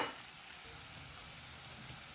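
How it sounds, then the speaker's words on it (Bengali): Garlic fries in hot oil for chicken biryani, giving a faint, even sizzling hiss that runs on alone after a brief louder burst at the start. "তো তেলের মধ্যে প্রথমেই দিয়ে দিলাম রসুন"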